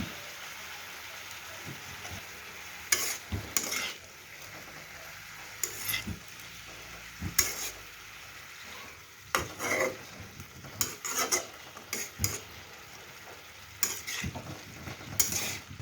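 Mixed vegetables stir-fried with spring onion greens and chopped onion, with irregular bursts of spatula scraping and clattering in the pan over a quiet low sizzle, heard close up and without talk.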